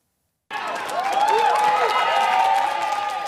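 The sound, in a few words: crowd applauding and cheering SPD election win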